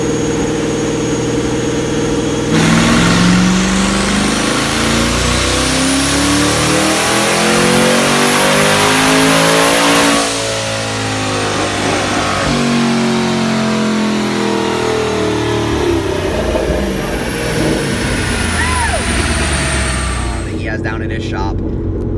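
A 2013 twin-turbo Mustang GT running E85, strapped to a dyno with no exhaust, revs hard in loud rising and falling sweeps, then drops back toward a choppy idle; a voice talks over it.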